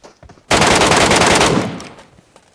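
Loud, close automatic gunfire in the mobile game PUBG Mobile Metro Royale, a single rapid burst of about one second that cuts in sharply and then fades out.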